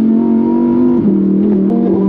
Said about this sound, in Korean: 아, 이 우라칸 배기 사운드는